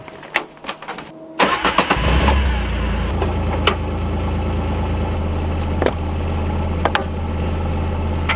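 A Mule utility vehicle starts on a frigid off-grid property: a few clicks and a cranking burst, then the engine settles into a loud, steady idle nearby, with occasional sharp knocks and clunks over it.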